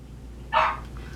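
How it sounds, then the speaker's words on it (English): A single dog bark rings out once, brief and somewhat distant, over a quiet indoor background. "Pardon the barking dog."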